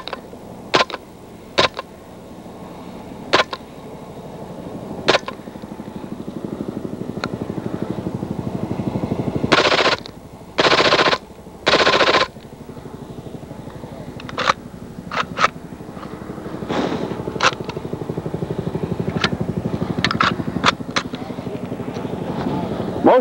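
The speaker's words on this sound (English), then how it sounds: "Most of the noise you hear on this one when it's firing is bolt noise" A silenced foreign submachine gun fires at a military training demonstration, starting with separated single shots and then short full-automatic bursts, the bolt clattering loudly over a steady background hiss.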